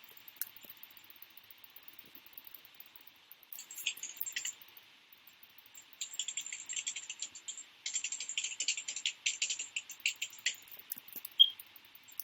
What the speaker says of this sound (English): I'm getting my mouse. So it's not loud clicking for everybody.